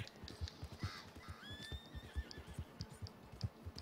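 An old nag of a horse in Red Dead Redemption 2 gives a rising, wavering whinny over steady clip-clop hoofbeats at a moving pace, fairly close and clear, with no talking.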